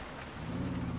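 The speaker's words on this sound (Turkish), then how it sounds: "Feci şekilde yağmur yağıyor." Heavy rain pours steadily in GTA 4, a dense hiss of downpour with a low rumbling underneath that swells slightly toward the end.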